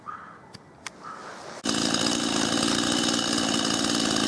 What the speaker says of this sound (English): The super reliable chainsaw has already started hacking into the pile.